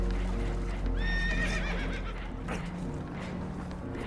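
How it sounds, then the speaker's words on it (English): A spooked horse in Red Dead Redemption 2 lets out a loud, shrill whinny over a low rumbling background, with faint hoof clops and movement noise around it. "Horses are spooked"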